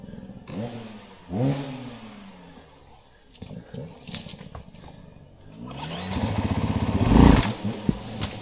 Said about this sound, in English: Mr. Hard Enduro, aka Jimmy, decided to hit the hill without even telling anybody.